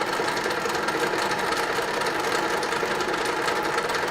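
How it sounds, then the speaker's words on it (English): A metal lathe carries out a turning operation, a constant, loud mechanical hum and hiss with fine regular vibration, unchanging throughout and no voices. "So this is how you perform turning operation."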